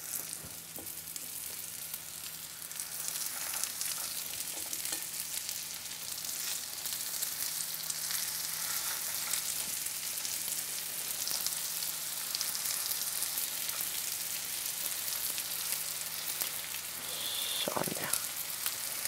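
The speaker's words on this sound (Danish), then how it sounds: "Og en rigtig god stegelyd. Bobler og syder, ligesom det skal være." Cod fillet frying in hot oil in a pan gives a steady, continuous sizzle with fine bubbling crackle throughout, close and even, with a brief louder burst near the end.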